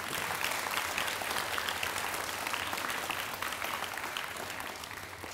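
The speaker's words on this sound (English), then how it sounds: "So let's give them a round of applause." A large audience at an elementary school D.A.R.E. graduation ceremony claps in a steady, dense round of applause that holds its level throughout, with no speech over it.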